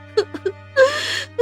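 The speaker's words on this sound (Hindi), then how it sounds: "तभी उसे किसी के रोने की आवाज आती है" A character in a Hindi cartoon cries: three short sobbing whimpers, then a longer wavering wail, over a faint steady hum.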